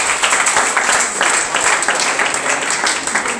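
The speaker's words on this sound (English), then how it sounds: "Clap for her." An audience at a talk on making money applauds, dense steady clapping from many hands over a few seconds with some voices mixed in.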